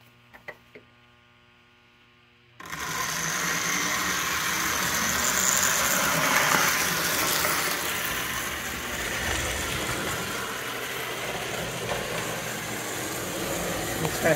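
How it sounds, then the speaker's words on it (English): After a quiet start, a Lionel postwar #68 Executive Inspection Car model train motor kicks in and runs steadily, a close, constant whirring hum that holds at an even level to the end. "Let's go ahead and put the car into operation."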